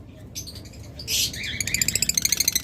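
A pair of double factor yellow-wing budgerigars, olive opaline, chatter close by with scratchy warbles, then break into a quick run of bright repeated chirps.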